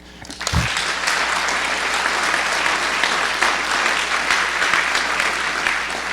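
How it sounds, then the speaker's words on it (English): An auditorium audience bursts into sustained applause, dense and loud clapping that starts abruptly and holds steady for several seconds. "We should applaud that."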